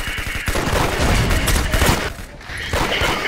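Rapid bursts of gunfire in the Roblox-style shooter game Arsenal, loud and dense, with repeated shots and impacts running throughout.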